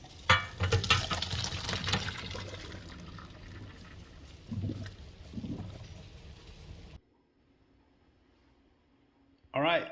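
Water drains from a cooking pot after simmering venison osso bucco, a splashing, gurgling pour that runs for several seconds and then stops, with a brief clatter at the end and speech mixed in.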